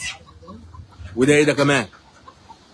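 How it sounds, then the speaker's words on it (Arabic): Shamourt chickens, each about two kilograms, cluck and let out a short, loud squawk up close while someone talks nearby amid a busy poultry sale. "3 فرخات شامورت الواحده وزنها 2 كيلو عاملين 615"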